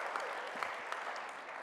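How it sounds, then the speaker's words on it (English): Faint, distant applause from a crowd in a room, a soft steady patter of many hands clapping for Stefan, low in level and unbroken over its short length. "so I think applause for Stefan is okay."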